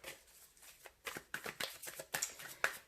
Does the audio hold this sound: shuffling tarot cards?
yes